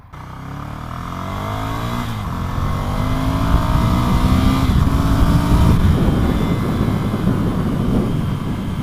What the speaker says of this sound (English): Not even using half throttle there. This has got some proper grunt to it.